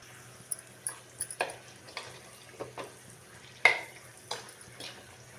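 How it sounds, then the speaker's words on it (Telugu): Dried red chillies fry in a pan, with soft sizzling under a series of scattered scraping and stirring clicks, fairly quiet and close, one sharper knock partway through. "ఇదిగోండి ముందైతే ఎండుమిరపకాయలు అయితే వేయించుకుంటున్నాం."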